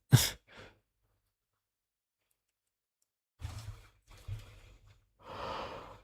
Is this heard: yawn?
yes